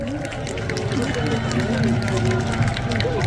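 A crowd at a final presidential election rally in the Busan Station square applauds steadily, a dense wash of clapping and crowd noise running under a loud amplified voice throughout.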